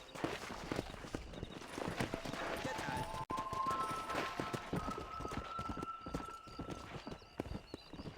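Horse hooves gallop in Red Dead Redemption, a steady rapid clip-clop running throughout with a brief whinny, a voice talking over the hoofbeats.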